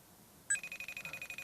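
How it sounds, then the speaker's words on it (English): A phone rings with an incoming FaceTime video call, a quiet electronic tone pulsing in a quick steady rhythm after a brief hush. "I'll FaceTime with Rich."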